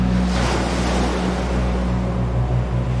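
Storm waves at sea in a radio drama: a dense, continuous roar of surf and wind, loud and steady with a low rumbling hum underneath, no voices.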